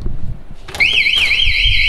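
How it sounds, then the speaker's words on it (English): A rooftop door alarm in a Hong Kong building bursts on after a thud, a loud, close electronic siren warbling steadily up and down over faint background noise. "Oh no! Our first alarm of the trip."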